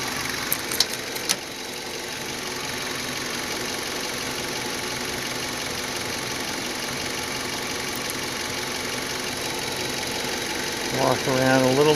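A 2005 Nissan Frontier's 2.5L four-cylinder engine idles close by with a steady, even hum and faint ticking, after a few brief clicks near the start.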